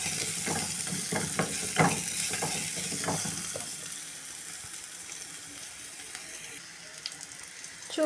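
Garlic roasting in a pan for a GSB-style home dish, a soft sizzle with stirring scrapes and clinks that are busier at first, then settle into a quieter steady hiss.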